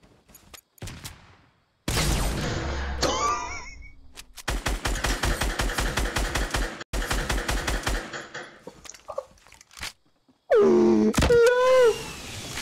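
A minigun fires in long, rapid automatic bursts during a duo shooter match, loud and dense. The bursts are broken by short gaps and mixed with wailing, swooping game effects.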